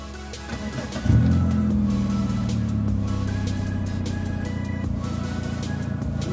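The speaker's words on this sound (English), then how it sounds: "Car started." A car with a Thornton chip tuning module installed cranks and fires up on a hot day, its engine catching after about a second and then settling into a steady, close idle hum.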